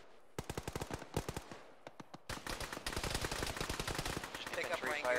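Heavy gunfire in a military video game, with rapid bursts of automatic fire in quick volleys, then a dense, sustained stretch of overlapping shots rattling close and loud.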